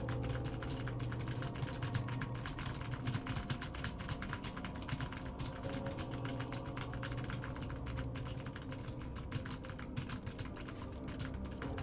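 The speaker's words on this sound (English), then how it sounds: "Now you can hear how loud blue switches are." Fast, steady clicking of a mechanical keyboard with blue switches, a continuous clatter of keystrokes heard at moderate distance over low background hum for the whole stretch.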